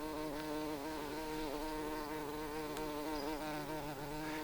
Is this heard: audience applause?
no